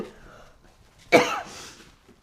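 A single sharp cough bursts out close by after a quiet stretch, trailing off into faint breathy noise.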